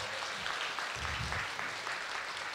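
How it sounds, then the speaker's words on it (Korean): Audience applause following an author's lecture at a live literary talk event, a steady broadband wash of clapping filling the whole stretch at moderate level with no voices on top. "멋진 강연을 해주신 정유정 작가님께 큰 박수 부탁드리겠습니다."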